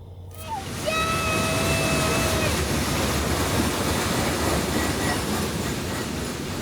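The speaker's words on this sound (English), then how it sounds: "Back at the daycare at Lakeland Junction, I'd arrived to train M603 rolling through." CSX daily manifest train M603 rolls through Lakeland Junction, its horn sounding briefly at first before a loud, continuous roar of wheels and cars passing close by.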